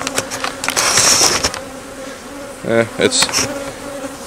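Honey bees buzz around an eight-frame beehive in an apiary, a steady droning hum with nearby bees swelling louder as they pass close, heard mostly alone with only a brief spoken word.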